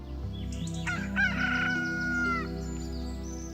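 A bird calls early in the morning with a single drawn-out, rooster-like crow rising and wavering over a low steady hum.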